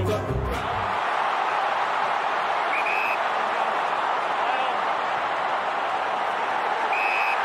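A large AFL finals crowd at the MCG roars and cheers in a dense, sustained wall of noise after a brief burst of commentary at the start, with a few whistles cutting through the din.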